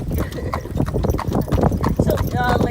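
Horse hooves clip-clop steadily on the road during an Amish buggy ride in Bird-in-Hand, Pennsylvania, a loud, continuous trotting rhythm with people talking over it throughout.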